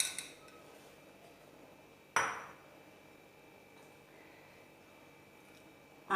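Metal utensils clink against a Kerala cooking pan as boiled tapioca and cooked brown chickpeas go in: two sharp, close clanks several seconds apart over a quiet kitchen background.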